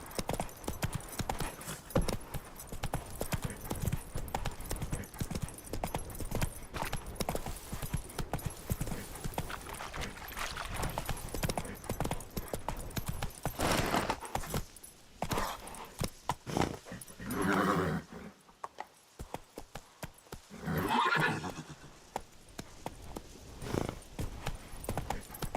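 The horse Roach from The Witcher 3 trots with steady clip-clop hoofbeats through a game scene, and brief neighs and whinnies rise over the hooves along with a few dog barks, all at moderate loudness.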